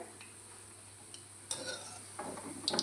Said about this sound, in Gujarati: અને આવી રીતે આપણે બધા ગોટા તળી લઈશું.